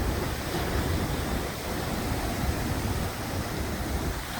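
Dense, continuous roar of surf crashing against a retaining wall at close range, a steady wash of crashing water with slight swells in loudness.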